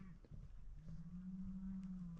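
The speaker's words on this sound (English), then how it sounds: "They're the first two cows coming." Two white cows in a field let out a low, drawn-out moo that rises slightly and holds, fairly faint and heard over soft outdoor background noise.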